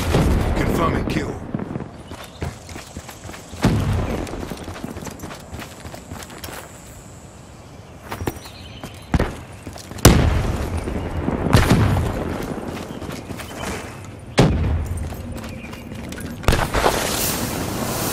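Grenade blasts and heavy gunfire in a Black Ops 3 beta team deathmatch, several loud booming bursts separated by quieter stretches, with voices calling out in between.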